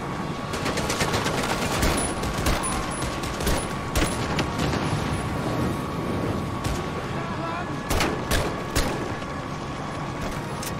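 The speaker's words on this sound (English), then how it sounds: "Who's shooting at me?" Gunfire in the Medal of Honor: Above & Beyond VR video game, a dense, continuous wash of distant shooting and battlefield noise with a few sharper bursts standing out, under occasional voice.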